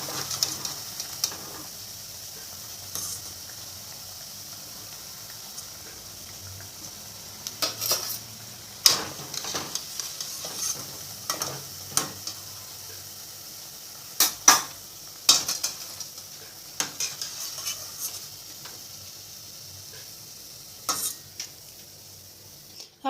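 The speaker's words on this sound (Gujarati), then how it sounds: "હવે એ જ રીતે આપણે બીજા પણ તળી લઈશું" Maize flour and potato bhaji frying in hot oil: a faint, steady sizzle runs throughout, broken by sharp clinks and scrapes of a utensil against the pan.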